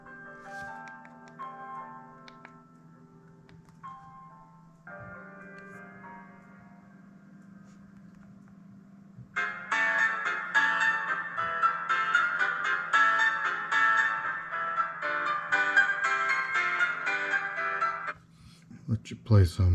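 Classical guitar plays through the small built-in speaker of an Onyx Boox Nova Air C e-reader, thin and tinny at first and then fuller plucked notes with a steady hum underneath.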